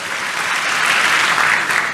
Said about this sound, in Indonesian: Tepuk tangan yang paling meriah buat Tuhan